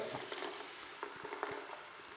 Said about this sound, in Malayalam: ബീൻസ് ഇട്ടിട്ട് നമുക്ക് നല്ലോണം വയറ്റണം.